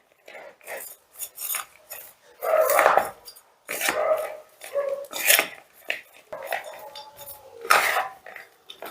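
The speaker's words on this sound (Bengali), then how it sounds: "এবারে আমি একটা স্পুনের সাহায্যে এই লঙ্কা, পেঁয়াজ আর ধনেপাতাটা চিকেনের সাথে মিশিয়ে দিচ্ছি।" Spoon mixing chicken with chili, onion and coriander in a bowl, irregular clinking and scraping bursts close up, with brief pauses between strokes.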